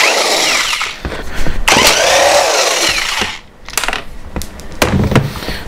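An impact wrench with a 13 mm socket removes a flywheel nut on small petrol-powered equipment, rattling in loud, close hammering bursts with brief pauses between them.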